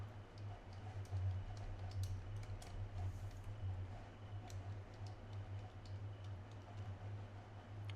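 Someone types a name and password on a computer keyboard, quiet scattered clicking keystrokes over a low steady hum, with no speech.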